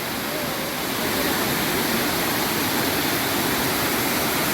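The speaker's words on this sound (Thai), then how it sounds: "มาถึงแล้วครับน้ำตกบุญบาล" Steady, loud rushing of Bunyaban Waterfall in Ranong, Thailand, a broadband roar that fills the whole clip without a break.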